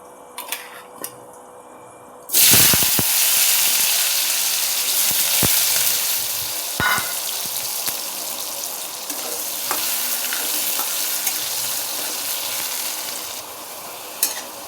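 Cut potatoes drop into hot oil in a wok with a sudden loud burst of sizzling, then keep crackling steadily and close while a utensil clinks and scrapes now and then.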